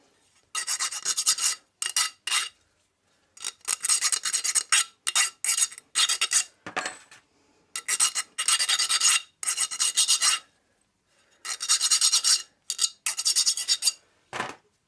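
A file rasping burrs off a metal hook on a bungee cord, repeated short scraping strokes in quick rhythmic groups with brief pauses, close and clear.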